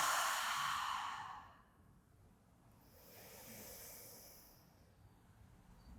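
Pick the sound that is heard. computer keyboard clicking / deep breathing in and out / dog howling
deep breathing in and out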